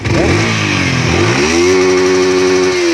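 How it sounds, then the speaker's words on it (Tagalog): Yamaha R15 motorcycle engine running after a full fuel pump assembly replacement, a loud steady close idle that dips and climbs in pitch early on before settling into an even hum. "umanda na yung fuel pump na kinabit"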